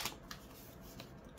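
Scissors snipping through a diamond painting sheet, a few quiet crisp cuts in a row, close and faint, with no talk.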